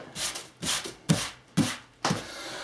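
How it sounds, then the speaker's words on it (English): A flat scraper drawn along a bead of silicone caulk on wooden molding, giving five close, distinct scraping strokes about half a second apart, each a soft rubbing swish. "the scraper is just going to smooth it all out and push it down into where she needs to be"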